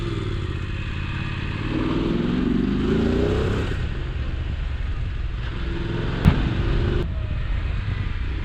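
A Voge 900 DSX motorcycle ridden at a steady pace, its engine droning loudly and continuously with a brief rise in revs partway through and a sharp clack near the end.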